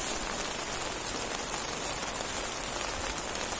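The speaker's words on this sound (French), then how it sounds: "Il pleut sur la serre et ça tombe" Rain pattering on a greenhouse roof and draining into a gutter, a steady, close, full hiss of drops with no pauses and no voices.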